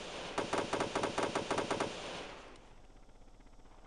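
Rapid bursts of machine gun fire during a military exercise, a quick rhythmic volley of shots for under two seconds, loud and close, then fading into quieter background noise.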